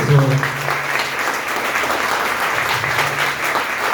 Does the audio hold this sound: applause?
yes